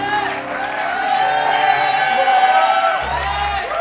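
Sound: audience applause and cheering

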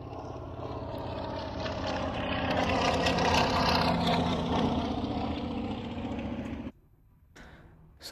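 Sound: biplane engine

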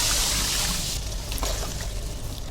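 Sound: water poured into cooking pot

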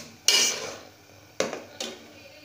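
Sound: stirring onion and tomato paste in pan

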